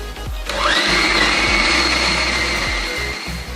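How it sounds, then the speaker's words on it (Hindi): Food processor whirring at high speed, blending chicken mince with bread slices, onion and ginger-garlic paste; a loud steady motor drone starts within the first half second and runs continuously with no talk. "अब हम इन सब चीज़ों को अच्छे से मिक्स कर लेंगे।"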